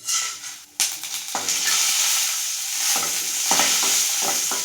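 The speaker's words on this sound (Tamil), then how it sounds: "எண்ணெய் அரிச்சு கொஞ்சமாக தனியா கொஞ்சமாக சோம்பு ஒரு பட்டை ரெண்டு லவங்கம் இதில் போட்டு கொஞ்சம் ஃப்ரை பண்ணிக்கலாம்" Coriander seeds, fennel, a cinnamon stick and cloves frying in hot oil in a pan, a loud steady sizzle with stirring scrapes and clatters throughout, no talking.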